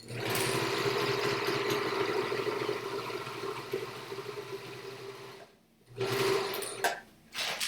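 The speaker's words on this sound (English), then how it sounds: "I'm just going to quick stitch it up" A sewing machine runs in a steady, continuous buzz while stitching a bag, stops briefly, then resumes for short bursts; the sound is close and alone.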